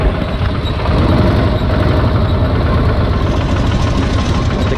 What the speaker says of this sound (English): This is about idle in full gear.